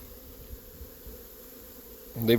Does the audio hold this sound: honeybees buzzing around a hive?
yes